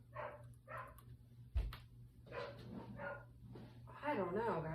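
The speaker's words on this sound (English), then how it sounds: "She's barking like crazy." A dog barks in short repeated bursts nearby, interspersed with a sharp knock and ending in a whimpering yip, while a person talks quietly over the room's low hum.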